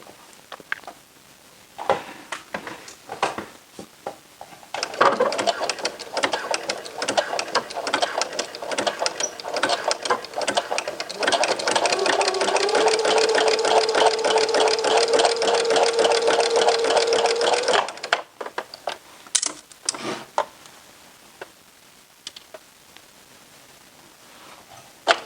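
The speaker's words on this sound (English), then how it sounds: "make sure your machine is set to the narrow zigzag stitch" Sewing machine running a narrow zigzag stitch around a T-shirt, a close, steady mechanical whirr that starts near the five-second mark, holds for about thirteen seconds and then stops, with a few brief taps before and after.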